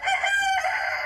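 A rooster in a backyard coop crows once, a loud, close, drawn-out call lasting about a second.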